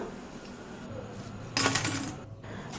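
Crispy fried bitter gourd fritters are lifted from hot oil with a short, bright rattling clatter against metal partway through. A soft background sizzle runs underneath, with no speech.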